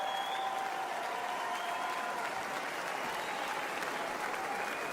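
Steady, dense applause from a large convention crowd at the Republican National Convention during J.D. Vance's speech, loud and sustained throughout with no talking over it.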